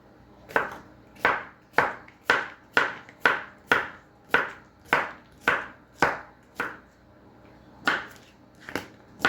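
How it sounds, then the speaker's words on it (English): A knife slices through cherry tomatoes for a summer side salad, about fifteen crisp, evenly spaced thuds on a board, close and clear, with no talking. "I'm cutting up some cherry tomatoes"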